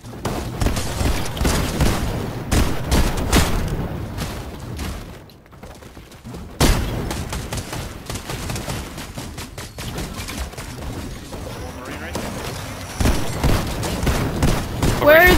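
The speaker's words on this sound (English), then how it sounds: "I think there's someone else shooting from the back, you guys." Video game gunfire from a squad battle royale match, dense bursts of shots and booms rattling on and off throughout, loud and near, with a brief lull midway before the firing resumes.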